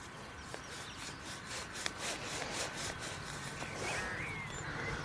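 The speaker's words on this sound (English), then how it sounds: "I'll give it a rub on the magic trousers" A corroded coin dug up while metal detecting in the UK is rubbed against trouser fabric, giving faint, rhythmic scratchy strokes repeated at a steady pace.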